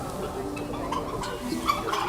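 Turkeys packed densely in a farm shed, a dense murmur of overlapping gobbles and chirps filling the space continuously, with a few sharper calls rising above the steady crowd noise.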